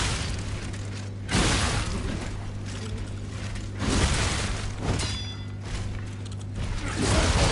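Enemy catching fire in Lies of P, heard as repeated loud whooshing bursts and booms over a steady game hum, swelling three or four times across the scene without speech.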